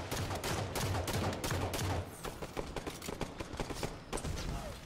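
Sniper gunfire in a video game during a doubles match: a loud, dense run of sharp shots and bursts crackling steadily throughout, with a brief faint voice.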